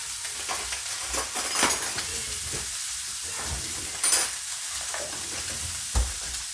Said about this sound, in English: I'm going to use that butter to baste the top of the steak